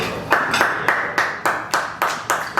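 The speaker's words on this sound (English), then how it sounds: "I'm clapping, and I'm not doing it to be cheesy" A speaker at a landlord association monthly meeting claps his hands in a slow, steady rhythm, about eight sharp, close claps evenly spaced with no other voices.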